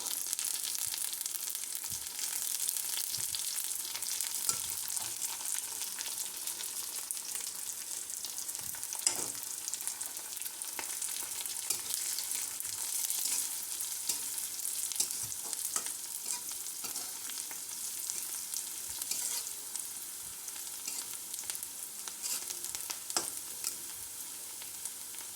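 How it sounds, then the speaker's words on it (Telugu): Turmeric and curry leaves fry in oil in a pan for bendakaya fry, a steady close sizzle with occasional pops and a few stirring scrapes across the whole stretch. "పసుపు, కరివేపాకు అన్నీ వేసుకుందాము."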